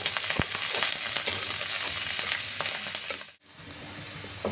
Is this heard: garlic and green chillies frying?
yes